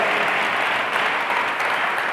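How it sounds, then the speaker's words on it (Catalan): A room full of people applauding steadily, a dense even clapping that holds throughout. "Et podem acompanyar d'aquest aplaudiment, sisplau."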